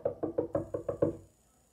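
Seven quick knocks on a wooden door in an even rapid rhythm, close and moderately loud, then quiet.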